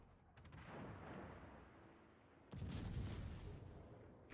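Naval cannons on the German cruiser KMS Mainz in World of Warships fire in low booming blasts, a muffled rumble first, then a sharper, louder salvo midway that rolls on and decays.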